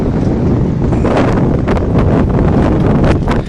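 Strong wind buffets the microphone in a steady, loud roar that fills the whole clip outdoors on a street, with gusty swells and no voices.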